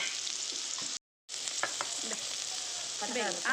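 Eggplant pieces fry in a pan with a steady, moderate sizzle that briefly cuts out, then resumes with light stirring; a faint voice surfaces near the end.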